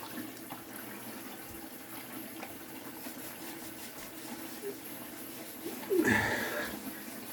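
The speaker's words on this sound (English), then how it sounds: "get that nice hot water on there." Hot water running from a tap during a head shave with a Gillette Sensor Excel razor, a steady low wash throughout that swells into a louder, closer gush near the end.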